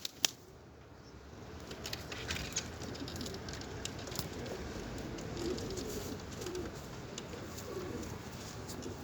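Soft pigeon cooing in a quiet space, with light rustling, pattering and occasional sharp clicks.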